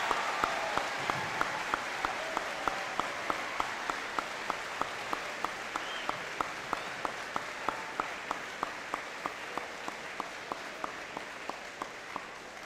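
Steady crowd applause fills a Veterans Day celebration at Anthony Wayne High School, honoring service members, veterans and Honor Wall inductees, with a sustained wash of clapping punctuated by regular sharp ticks throughout.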